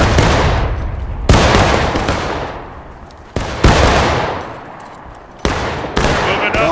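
Civil War reenactors fire their rifles independently, four loud, close black-powder shots spaced a second or two apart, each a sharp crack followed by a long rolling decay.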